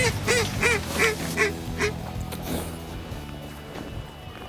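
Ducks quack on icy water in an Arkansas hunting spot, a rapid descending series of about six loud, close nasal quacks, then quieter scattered calls trailing off.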